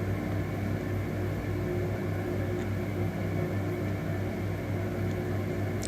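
Steady, loud whirring drone of a blender pureeing smoothie ingredients with a glass of cold water, an even motor hum with a constant broadband wash, running unbroken throughout with no voices.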